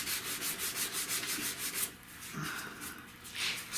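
Hand sanding a repaired cracked car dashboard with 220 grit sandpaper, quick rhythmic back-and-forth rasping strokes close up, pausing briefly before resuming.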